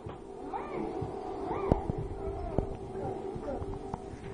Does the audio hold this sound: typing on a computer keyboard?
no